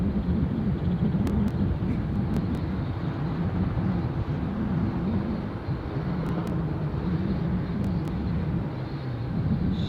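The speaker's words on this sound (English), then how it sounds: "Oh, I can hear a helicopter, I just can't see. Oh, it's right over my head." Helicopter passing overhead near Dusseldorf airport, a continuous low droning rumble holding fairly steady and close for the whole stretch, with faint outdoor background.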